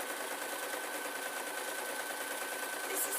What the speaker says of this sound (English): So all I'm doing is I'm sewing down one side, and then I'm going to fold it over and sew down the other side.